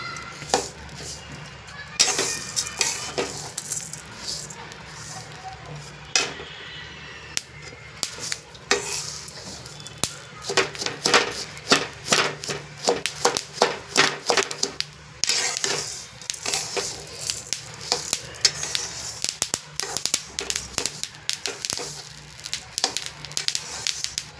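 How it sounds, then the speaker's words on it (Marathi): Flax seeds dry-roast in a pan while being stirred, giving a steady close crackle and sizzle broken by bursts of scraping, rattling stir strokes, with no talking. "त्याला व्यवस्थित खरपूस असं भाजायचं आहे"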